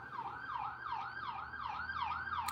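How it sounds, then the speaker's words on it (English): An ambulance siren wails close by with a repeating rising-and-falling sweep, loud and steady, over faint road noise. "Oh, it's an ambulance behind me."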